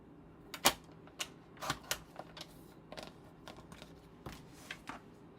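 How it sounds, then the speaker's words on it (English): Close, quiet series of sharp clicks and short slicing scrapes from a paper trimmer cutting card stock, uneven bursts spread across a few seconds with no talking. "I'm bringing that trimmer back in because I'm having issues cutting this"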